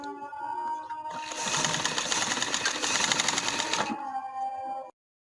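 An electric sewing machine stitches a ban neck collar, a fast, even rattling whir for about three seconds that starts and stops abruptly, with a quieter mechanical hum before and after.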